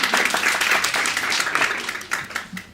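Audience applause at a fiction reading, a burst of many hands clapping that rises and then thins, fairly close and loud, with individual claps standing out near the end.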